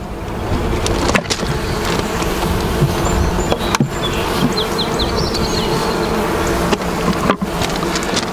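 Honey bees from a split hive buzz in a dense, continuous swarm drone around an opened box during a transfer out of a horizontal Langstroth hive, close and steady throughout, with a few faint higher chirps above.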